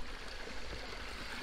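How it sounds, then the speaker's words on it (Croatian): Mountain stream flowing downhill, a faint, steady rushing and gurgling of water with no other sounds over it. "Vidite kako se lijepo voda prolijeva."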